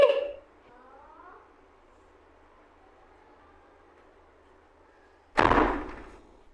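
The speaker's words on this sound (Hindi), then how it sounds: "अन्वी बंद कर दरवाजा, पंखे की आवाज पूरी आ जाएगी" A room door pulled shut indoors: after several seconds of faint background hum, a single loud, close slam with a short thudding decay.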